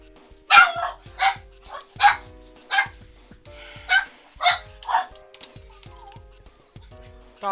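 Several dogs bark in repeated sharp bursts, about a dozen barks spaced through the stretch, fairly close and loud, with a steady faint background hum underneath.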